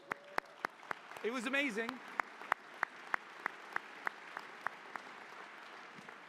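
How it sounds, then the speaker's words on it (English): Sparse applause at a graduation ceremony after a prayer: a few sharp, evenly spaced claps ring out steadily, with a brief spoken remark over the early claps. "You can applaud."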